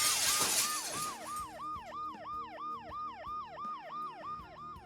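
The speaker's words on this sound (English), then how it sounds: "The noise the ambulance makes will cover the sound of the glass breaking." An ambulance siren in the video game Dead Synchronicity wails in a steady, repeating up-and-down cycle, covering a burst of breaking glass at the start.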